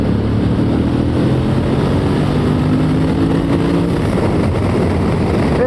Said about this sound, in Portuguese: vamos aproveitar já aqui à frente para dar um gás assim, mesmo à séria, a ver como é que ela reage